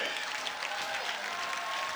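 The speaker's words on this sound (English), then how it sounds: "A standing O for those two gentlemen" Hometown beach volleyball crowd at an AVP tournament in Hermosa Beach applauds two players, a steady broadband wash of clapping with a faint voice over it, sustained and even for two seconds.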